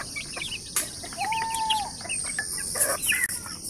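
Free-range native chickens, about three months old, on a Philippine farm: steady clucking and chirps from several birds nearby, with a drawn-out call partway through and no talking.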